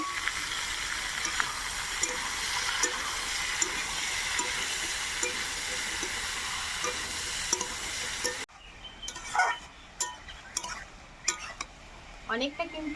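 Whole cumin, radhuni and chopped green chilli hit hot oil in a wok, a loud dense sizzle that runs continuously and then gives way to quieter crackles and clinks of stirring.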